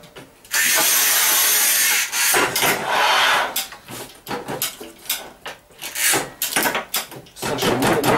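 A Sigma NEX manual tile cutter scores tile, a loud sustained scraping rasp followed by a series of shorter gritty strokes and rubbing noises nearby.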